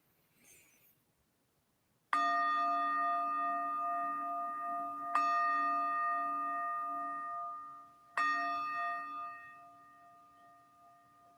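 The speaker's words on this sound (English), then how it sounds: "we will begin and end with 3 chimes of the bell." Three struck chimes of a meditation bell ring out one after another at even intervals, each clear, bright tone sustaining and slowly fading before the next strike, in an otherwise quiet room.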